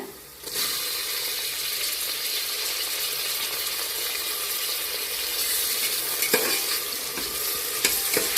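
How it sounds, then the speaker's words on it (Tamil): Tomatoes and onions fry in a pan for a quick vegetarian coriander biryani made in a pressure cooker, giving a steady loud sizzle with occasional stirring scrapes, close up and without talk. "நல்லா பச்சை வாசனம் போகிற அளவுக்கு தக்காளியை நல்லா வதக்கிக்கணும்"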